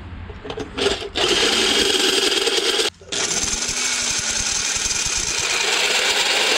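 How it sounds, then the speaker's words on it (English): A saw blade cutting a circle out of a piece of aluminum in a workshop, with a loud, steady, harsh buzzing whine that drops out briefly before resuming. "I'm actually gonna cut a circle right here out of this aluminum"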